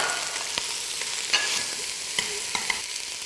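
Whole spices, cardamom, cinnamon stick, bay leaves, fenugreek seeds and peppercorns, sizzle in hot oil with a steady close hiss, punctuated by scattered sharp pops and clicks of stirring.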